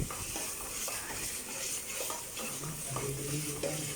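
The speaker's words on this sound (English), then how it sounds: "once I cook this ginger garlic together, when it gets cooked with the oil" Ginger and garlic fry together in oil in a pan, giving a continuous close sizzle with light stirring and occasional soft utensil clinks.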